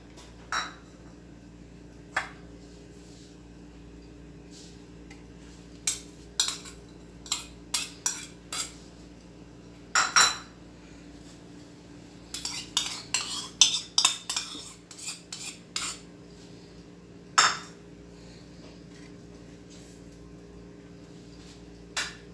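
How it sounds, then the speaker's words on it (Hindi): Chicken being mixed with salt, chilli, turmeric and garam masala in a bowl, with sparse metal spoon clinks and scrapes that come in short bursts with quiet gaps between, close and unvoiced. "चलें शुरू करते हैं इसको मिक्स करना"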